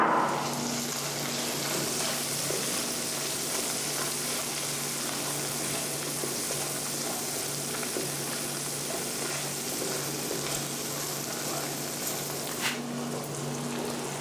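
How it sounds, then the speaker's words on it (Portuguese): Sausage sizzling in rendered bacon fat in a pan, a steady close crackling fry with faint bubbling and occasional pops, continuous and without talk. "aqui já está o bacon pronto, eu já vou colocar a linguiça aqui do lado"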